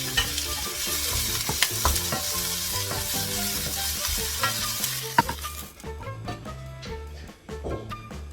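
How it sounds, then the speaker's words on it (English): Red bell peppers stir-fried in a hot pan with very little oil, crackling in a steady sizzle broken by scraping and tossing clicks, close and fairly loud, fading to lighter scattered sizzles near the end. "I've heated up my pan with very little oil and I'm going to stir fry this for like 30 seconds only"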